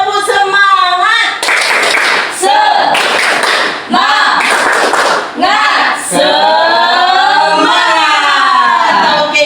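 A group claps in rhythm for an Indonesian 'tepuk semangat' cheer, led from the front, with bursts of broadband clapping alternating with loud chanted voices close by.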